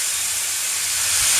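A pressure cooker cooking dal on a stove releases a steady, loud hiss of steam that holds on and swells slightly toward the end, with no talk over it.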